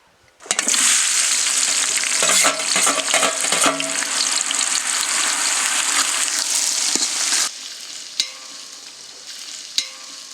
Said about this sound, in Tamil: வெங்காயம் நல்லா பொன்னிறமா வர அளவுக்கு பொரிச்சு எடுத்துக்கலானோ.